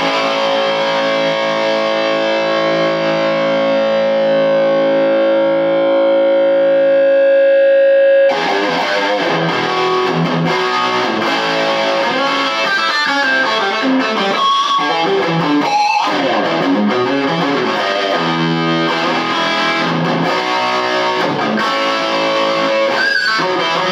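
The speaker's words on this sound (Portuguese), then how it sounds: "Captador humbucker com distorção." An electric guitar on a humbucker pickup, both coils engaged, is played with distortion straight into a Meteor amplifier with no pedals. A held chord rings first, then dense, loud overdriven riffing continues steadily.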